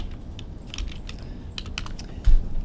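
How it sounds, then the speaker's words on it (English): Keystrokes on a computer keyboard while entering text into an Excel spreadsheet cell, a quick irregular run of close, light clicks with one louder tap near the end. "I'll type something."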